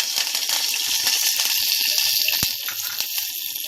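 Curry leaves dropped into hot oil already holding cumin and mustard seeds, giving a loud, steady hiss and crackle that runs unbroken throughout with scattered pops.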